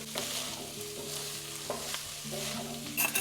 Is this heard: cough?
no